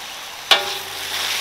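Beef tendon drops into caramelized sugar in a hot wok, joined by scallion, ginger and garlic, setting off a sudden loud sizzle that settles into a steady frying hiss.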